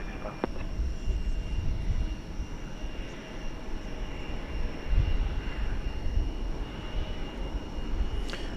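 A jet airliner at DFW Airport roars steadily on takeoff from runway 18 Left at night, a continuous broad engine rumble heard from a distance without any talk.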